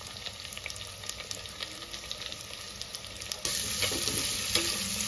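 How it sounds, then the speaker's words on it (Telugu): Onions fry in peanut oil with a dense, close sizzle and stirring clatter. The sizzle swells louder and hissier partway through and stays that way, with no voices. "ఇలా ఆనియన్ బాగా వేపుకుందాము"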